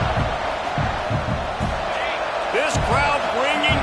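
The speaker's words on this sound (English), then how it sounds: "This crowd bringing the energy and noise early." A video game college football stadium crowd from NCAA 25 roars steadily with cheers and whoops rising, while an announcer's voice carries over the noise.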